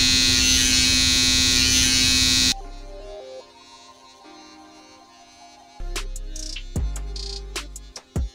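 Electric clippers buzz loudly and steadily at close range for a couple of seconds during a self-haircut. After a quieter pause, shorter buzzing bursts and handling clicks follow.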